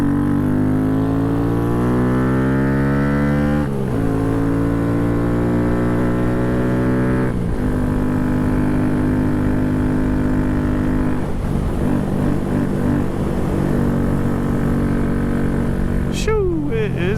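A Honda Grom motorcycle fitted with a high-compression piston, cam and tune accelerates hard on a cold ride, its engine note climbing sharply in pitch, then dropping at each of two clear gear changes before rising again, loud and close throughout.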